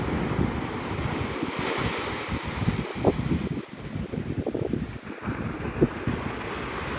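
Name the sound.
ocean waves at Navarre Beach, Florida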